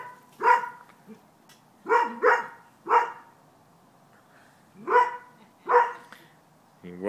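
A puppy barks in short, sharp bursts, several spaced yaps in pairs and singles across a few seconds, close and fairly loud against a quiet room.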